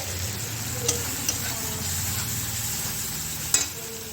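Kashmiri chilli powder and turmeric sizzle steadily in a hot pan for a rui fish curry, with a few sharp clinks of the stirring spoon against the metal.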